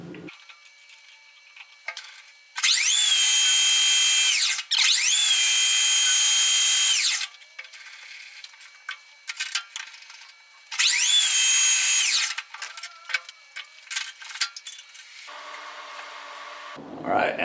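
A metal lathe spins an aluminum part at full speed, giving three loud, sustained high-pitched whining runs separated by quieter gaps with scattered clicks and workshop noise.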